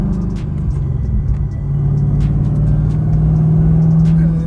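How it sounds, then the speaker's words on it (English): A car with an LS V8 and a manual transmission drives along, its steady low engine rumble rising in pitch and loudness midway as it pulls harder, up close and alone with no talking. "I did miss how much I enjoyed daily driving a good LS engine with a manual transmission"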